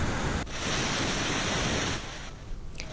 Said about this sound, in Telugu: దీంతో 17 గేట్ల ద్వారా నీటిని కిందికి దిగువకు వదులుతూ ఉన్నారు.